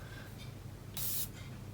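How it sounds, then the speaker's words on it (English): A perfume atomizer for Memo London Imperia fragrance gives a single short spray, a brief bright hiss lasting about a quarter second against a quiet room background. "Let me show you the atomizer."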